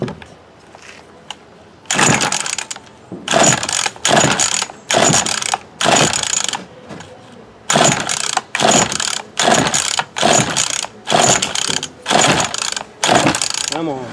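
A Remington Rustler RM2510 riding mower engine with a bad carburetor is cranked over and over, loud bursts of starter grinding and churning broken by short pauses, close by, with faint mechanical noise between attempts.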